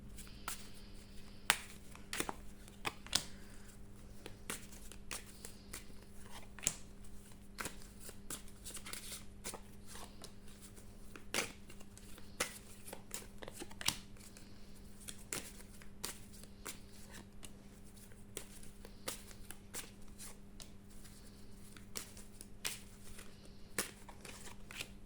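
Oracle cards being shuffled by hand in repeated quick riffling bursts, crisp close flaps and taps recurring every second or two over a quiet background hum.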